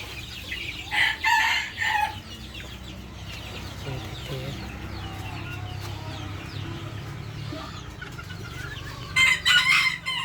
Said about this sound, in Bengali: এগুলি বড় মুরগি এগুলি ডিম পারে